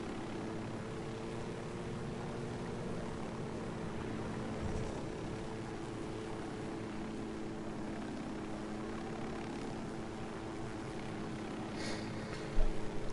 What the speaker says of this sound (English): I got a helicopter now.